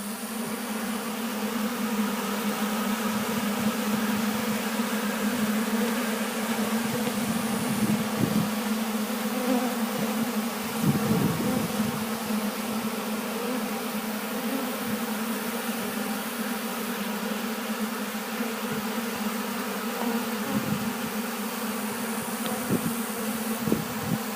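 Honeybees swarm and buzz steadily around an open-air feeding station in winter, a dense continuous drone with no talking over it.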